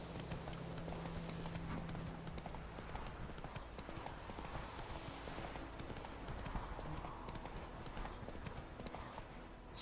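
Roach, the horse in The Witcher 3, gallops on and on in a fast, even rhythm of hoofbeats under a dense wash of ambient game sound.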